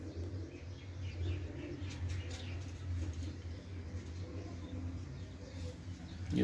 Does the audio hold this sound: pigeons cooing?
yes